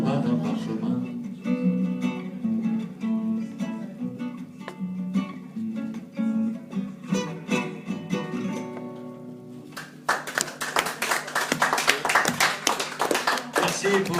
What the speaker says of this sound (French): Merci pour ces applaudissements nombreux et chaleureux.